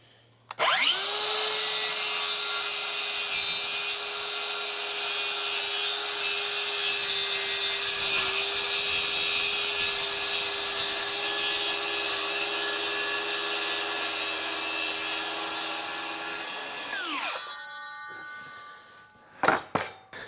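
A circular skill saw rips through a full sheet of plywood along a clamp-on straight-edge guide, a steady loud whine for about sixteen seconds before winding down, then a couple of clunks.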